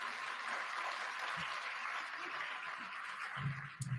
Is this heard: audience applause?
yes